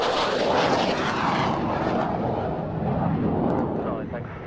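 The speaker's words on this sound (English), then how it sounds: "Certainly one of my favourite aircraft right now, the F-15." An F-15 fighter jet flying overhead, a loud broad roar that swells and then slowly fades over several seconds as it passes.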